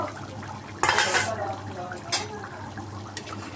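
A plate used as a lid is lifted off a pot of simmering country chicken curry, making one sharp metallic clatter followed by a few lighter clinks against a soft kitchen background.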